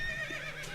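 A short whinny from an armored horse in the video game West of Loathing, one brief clear neigh alone with no talk.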